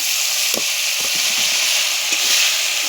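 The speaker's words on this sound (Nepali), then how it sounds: "यहाँ प्याज पाक्दै छ" Onions frying in a pan, a steady loud sizzle with scattered crackles and faint stirring clicks throughout.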